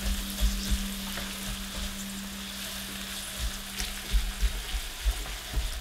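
Onions frying in a pan for a sundubu jjigae soft tofu stew, with a steady bright sizzle broken by soft scrapes and knocks as a utensil stirs them, close up and with no talking.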